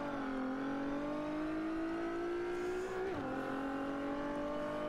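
A racing car engine in a video game race drones loud and steady, its pitch climbing gradually under acceleration, dipping briefly at a gear change, then rising again.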